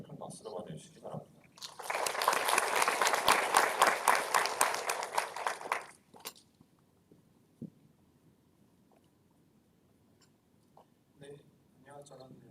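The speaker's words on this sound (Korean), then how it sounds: "백상수 교수님을 큰 박수로 맞아주시기 바랍니다" Loud applause from a forum audience at a Korean university lecture event welcomes a professor to the podium, building quickly and lasting about four seconds before stopping abruptly, followed by near silence with faint shuffling.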